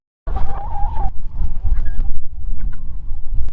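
Farmyard poultry on a windy day, the birds making loud, close, varied clucking and honking calls in a busy overlapping stream, with wind rumble underneath.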